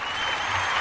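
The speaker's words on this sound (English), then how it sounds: "We're clapping for you." Short, steady stretch of clapping from a small group, even and continuous for under a second with no pauses or voices on top.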